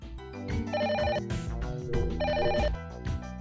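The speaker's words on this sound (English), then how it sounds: "Telephone!" Telephone ringing in the video game The Silver Case, two clear repeated bursts of electronic ring tones over a steady game music bed, loud and close.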